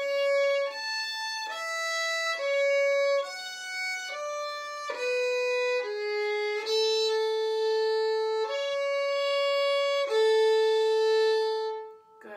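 Fiddle playing a phrase of the Oriole Hornpipe, a clear solo melody of bowed notes stepping through the tune, close and loud, ending on longer held notes with no talking.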